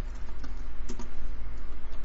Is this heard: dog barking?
no